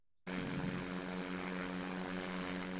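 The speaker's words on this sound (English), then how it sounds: "In the Trevor Jacob plane, or near as I can find to it." A replica Trevor Jacobs light aircraft in flight, its propeller engine starting abruptly and then droning steadily and loudly with a thick buzzing hum, heard close from the cockpit without talk.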